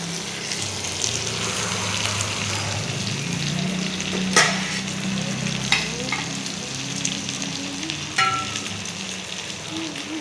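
Chopped tomato and spices stirred and fried in a pan, a continuous close sizzle beneath a low rumble, with a few sharp scrapes and clatters from the spatula against the pan.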